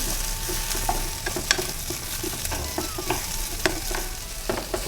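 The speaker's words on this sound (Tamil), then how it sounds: "இந்த ஸ்டேஜில் இஞ்சி பூண்டு சேர்த்துக்கலாம் இதையும் சேர்த்து நல்லா வதக்கிக்கலாம்" Ginger and garlic sautéing with broad beans in hot oil, a close sizzle broken by frequent spatula scrapes and clinks against the pan, with no talking.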